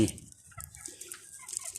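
Chickens pecking at grass give short, soft clucks nearby over a quiet outdoor background.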